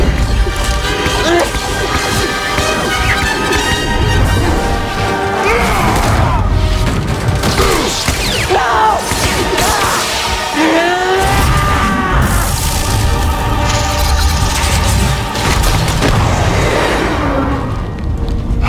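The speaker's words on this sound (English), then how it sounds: "I overloaded the ship's reactors. The explosion will mask our escape." Ship reactors explode in Star Wars Jedi Fallen Order, a dense, loud and continuous roar of crashing blasts, rumbling booms and metallic debris filling the whole scene without pause.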